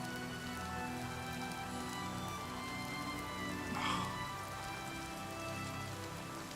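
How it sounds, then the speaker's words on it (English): Steady, dense patter of rain falling in the video game Oblivion Remastered, a continuous even hiss with no talking. "The rain."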